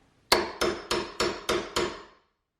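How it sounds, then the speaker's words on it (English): A hammer strikes a nail punch six times in an even rhythm, driving a nail into wooden bookcase trim; each close, sharp knock rings briefly before the next, with no talk. "I can once more use my nail punch to drive this the rest of the way in"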